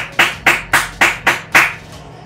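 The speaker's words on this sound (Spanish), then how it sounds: "¡Un aplauso!" Five sharp hand claps in a steady, slightly slowing rhythm, close and loud, each ringing briefly, in the FIFA 20 video game.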